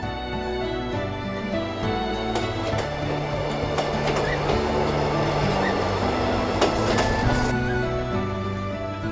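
Train on the Yeongdong Line rolling along its rails, a steady close rumble with faint clicks and a brief louder squeal of wheels partway through, no voices.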